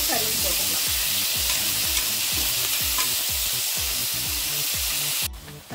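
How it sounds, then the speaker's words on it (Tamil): Tomatoes sautéing with rock salt in a pan, a loud steady sizzle under a regular rhythm of about a dozen spoon scrapes against the metal, close and alone, cutting off abruptly near the end. "நல்லா உப்பு போட்டு கல் உப்பு போட்டுட்டு நல்லா வதக்கி விடணும்."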